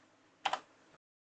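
A few quick, faint keystrokes on a computer keyboard, a short close tapping cluster followed by silence.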